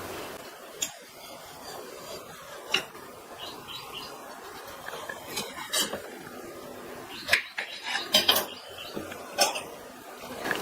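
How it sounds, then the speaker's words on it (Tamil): Bottle gourd being peeled and cut in a kitchen, with sharp intermittent knife taps and scraping clicks spread across the clip over a faint background of bird chirps. "இதனுடைய மேல் தோலை லைட்டாக சீவிட்டு கட் பண்ணிக்கலாம்."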